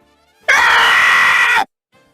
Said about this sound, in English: what are you screaming for?